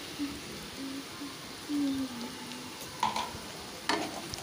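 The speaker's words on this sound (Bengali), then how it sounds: "এবার ভালো করে সমস্ত উপকরণগুলোকে মিশিয়ে নিচ্ছি।" Spices including turmeric and Kashmiri chili powder being stirred into ingredients in a frying pan while cooking taro leaves, with soft scraping strokes and light sizzle, quiet and close, no talking.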